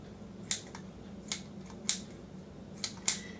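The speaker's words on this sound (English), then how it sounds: "I'm just going to chop my bacon with these kitchen scissors" Several sharp, crisp snips of kitchen scissors cutting bacon into small pieces, spaced irregularly over a quiet room background.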